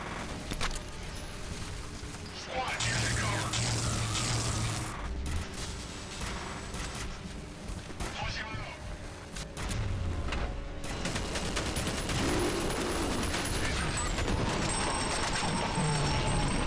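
Turret gunfire in F.E.A.R. Perseus Mandate on high difficulty, dense bursts of rapid shots and booms mixed with mechanical whirs, continuous and loud throughout a set-piece fight.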